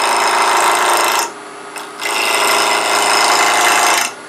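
A 3/8 inch bowl gouge cuts a spinning workpiece on a wood lathe at about 1500 rpm, a loud continuous scraping whir broken by one short pause before the cutting resumes.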